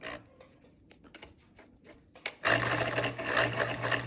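A sewing machine stitches a seam. Faint, slow ticking at first gives way to a steady motor whir with rapid needle chatter that runs loud and close to the end.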